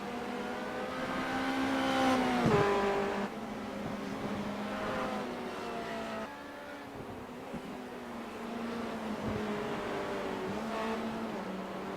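Race cars braking and shifting through the tight Beckett's chicane at Silverstone in iRacing, engines droning steadily with pitch dips and rises as gears change, continuous and fairly loud.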